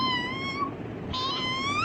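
A voice imitating a cat's meow, two drawn-out, wavering mewing cries with a short break between them, close and clear with nothing else over them.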